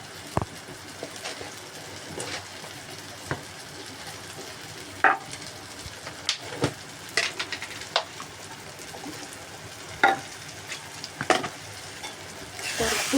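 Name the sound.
spices being sautéed in a pan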